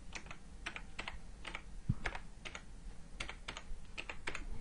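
Someone types one-handed on a computer keyboard, producing an irregular run of close, crisp key taps with uneven pauses between short bursts.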